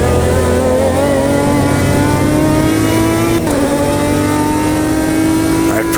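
A 2005 GT1 race car at Spa in the racing game Automobilista 2 roars loudly and continuously, engine pitch climbing steadily under acceleration with a brief dip around a gear change before rising again.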